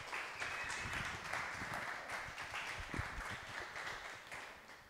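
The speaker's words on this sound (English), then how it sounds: "Just give me a round of applause." An audience gives a faint, steady round of applause, a soft wash of clapping that lasts throughout and fades slightly toward the end.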